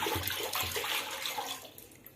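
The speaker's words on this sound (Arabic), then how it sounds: "أول شي بنحط مية بالطنجرة" Water gushes and splashes steadily into a cooking pot, close and fairly loud, then thins out and trails off near the end.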